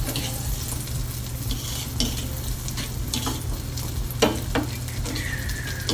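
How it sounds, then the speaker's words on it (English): Food with mushroom stems frying in a pan over medium-low heat is stirred, giving a steady close sizzle broken by several sharp scraping strokes and light clinks of a utensil, with no talk. "Give it a nice little stir."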